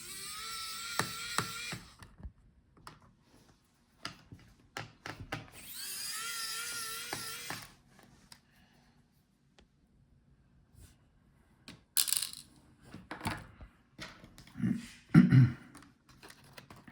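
Small screws being taken out of the motherboard of an Aorus 17 XE5 2022 gaming laptop, with a whirring electric screwdriver in short bursts, several sharp clicks and taps, and quiet gaps between them.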